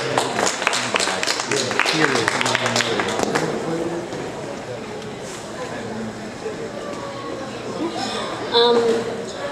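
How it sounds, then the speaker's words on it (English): Open-mic audience clapping and chattering at a university event, a busy patter of applause that thins out midway under murmuring voices before a brief swell near the end. "Please give her a round of applause."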